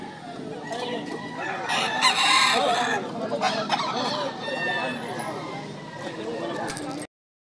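A fighting rooster crows at a gamecock sale in Lipa, Batangas, with repeated loud crows and clucks from nearby birds over steady crowd chatter and talk throughout.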